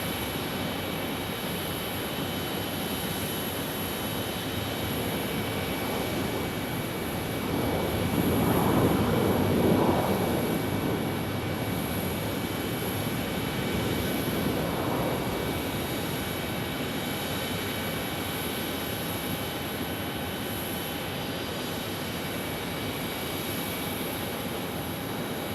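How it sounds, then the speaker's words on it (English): A Boeing 737 MAX 8 jet at Phoenix Sky Harbor is heard at a distance, a faint engine rumble that swells briefly over steady background hum and hiss, then fades. "Here's our Oakland MAX 8 flight."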